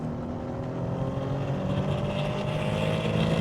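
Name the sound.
Renault Alpine A310 engine driving through tight corners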